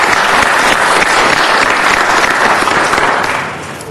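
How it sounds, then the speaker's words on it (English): An audience at a city council meeting gives a short burst of applause, dense and steady, then fading slightly at the end, with no voices over it. "Brief applause,"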